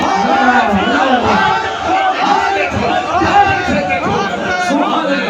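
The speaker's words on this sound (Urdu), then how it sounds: "بند راستوں کے باوجود آج عاشقوں کا ہجوم دیکھو" A dense crowd of devotees gathered at a shrine, a continuous murmur of many voices with chanting and calls rising from the throng, fairly close and loud.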